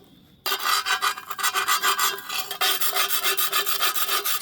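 Coarse sea salt grinds against a cast-iron pan being scrubbed outdoors by a river, a rhythmic series of close, raspy back-and-forth strokes following a moment of quiet.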